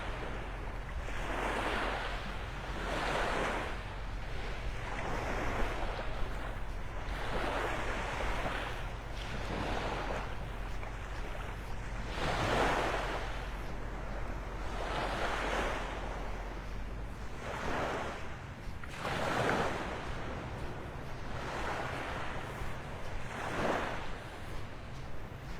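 Ocean waves break on the beach at Delnor-Wiggins in North Naples, Florida. Surges of surf arrive every few seconds in a slow, regular rhythm over steady wind noise, with no voices.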